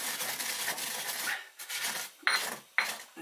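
Coriander and fennel seeds are ground by hand, giving soft, quiet rubbing and rasping strokes with a few sharper scrapes toward the end.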